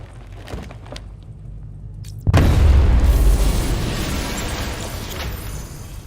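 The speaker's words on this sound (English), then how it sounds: "I need to be at a safe distance before I detonate." Detonated charge blasts open a vault in the Batman Arkham Knight video game: low mechanical ambience with faint clicks gives way to a sudden massive boom, followed by a long loud rumbling roar of debris that gradually fades.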